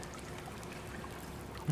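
Steady wet trickling and dripping water throughout the dark environment of the sci-fi horror game SOMA, a continuous close ambient bed with no speech.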